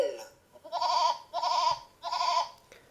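A sheep bleats three times in a steady rhythm, each call close, loud and about half a second long, with short quiet gaps between them and no talk.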